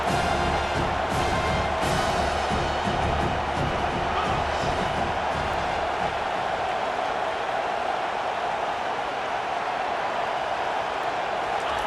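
A football stadium crowd at a college scrimmage keeps up a constant broad roar of cheering and noise, fairly distant and washed out, with no clear bursts standing apart.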